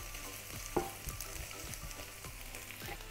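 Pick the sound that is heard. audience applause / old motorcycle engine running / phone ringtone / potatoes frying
potatoes frying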